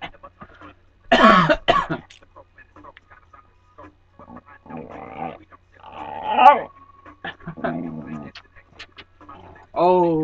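A dog vocalizes on command, giving several short throaty barks, whines and grumbles in separate bursts across the stretch, close to the microphone, with a person speaking between them.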